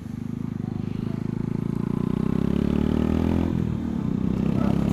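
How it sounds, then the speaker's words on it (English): A Honda Shadow 150cc motorcycle with an aftermarket exhaust idles and revs nearby, a steady low pulsing burble that swells slightly midway. "that's probably helped by this aftermarket exhaust as well, so it actually sounds decent"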